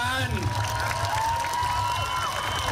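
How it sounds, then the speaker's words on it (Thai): Crowd applause and cheering at a Thai election political rally, a dense continuous wash of clapping and shouts mixed with a loud amplified voice over it. "ปรบมือดังๆยาวๆให้วุฒิสภาที่พาประเทศไปสู่อนาค"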